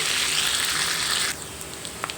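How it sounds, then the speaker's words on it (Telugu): Tempering for carrot rice frying in a pan: a steady, close hissing sizzle of hot oil that runs loudly for over a second, then drops abruptly to a softer crackle with a few light pops. "ఇదిగోండి తాలింపు అయితే ఈ విధంగా వేయించుకోవాలి"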